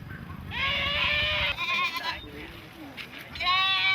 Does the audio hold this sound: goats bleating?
yes